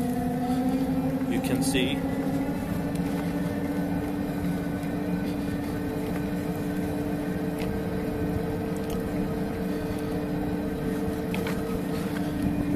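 A 250W bicycle hub motor whines steadily as the pedal cranks are spun, a constant tonal hum with mechanical whirring beneath, while a person talks briefly over it.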